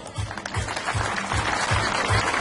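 Audience at a town's patronal fair song festival in La Virtud claps in a brief burst, with a steady low rhythmic thump running beneath the clapping.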